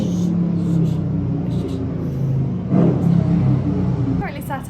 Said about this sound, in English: Noisy cars.